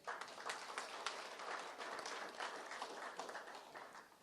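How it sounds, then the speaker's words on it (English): Applause from an audience at a plenary assembly of a parliamentary forum, a soft, fairly distant patter of many hands clapping steadily throughout. "Another round of applause."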